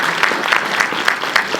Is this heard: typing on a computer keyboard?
no